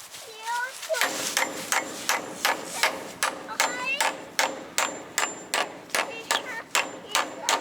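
Steady hammer blows drive nails into a wooden firewood shed, about two strikes per second in a regular rhythm, loud and close, with the children's voices faint in the background.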